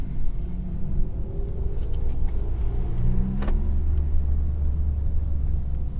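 Honda Civic Type R FK8 on the Pocono race track, fitted with AutoZone Duralast GT brake pads: loud continuous engine drone and road rumble from inside, with pitch rising and falling through shifts and braking.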